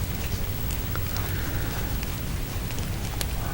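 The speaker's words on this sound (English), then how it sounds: "I love the sound of rain, man." Steady rain patters and hisses outside an open window, a dense, even wash of drops with occasional sharper ticks and no voices.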